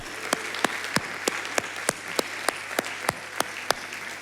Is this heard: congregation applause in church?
yes